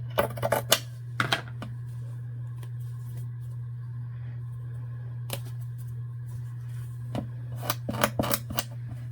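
Scissors trim the frayed edge of a book cover in short bursts of crisp snips, clustered at the start, middle and end over a steady low hum, close and fairly quiet with no speech.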